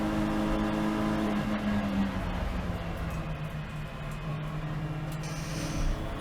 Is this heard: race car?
yes